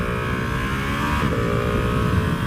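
Ducati Panigale V2 twin-cylinder motorcycle (2020) pulling hard out of a corner, a loud, steady engine drone heard up close from the rider with a brief rise in pitch mid-way, no talking.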